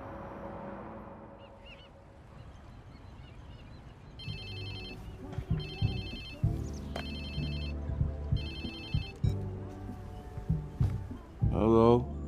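A phone rings in Watch Dogs 2, several bursts of bright electronic trills repeating at a steady pace over a busy background, with voices talking nearby.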